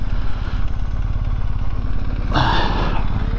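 A BMW R1250GS motorcycle idles close by, a steady, rhythmic low engine chug that runs through the whole clip, with a brief mechanical clatter near the end and no speech.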